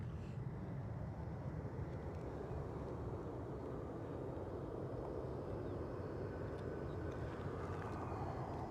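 A United airliner on final approach to Edinburgh Airport, a steady, broad jet rumble heard from a distance, fairly faint and unbroken, with no talking.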